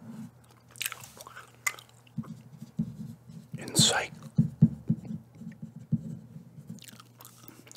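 Close, moist chewing of gum with soft smacking sounds, accompanied by quiet whispering and a low steady hum.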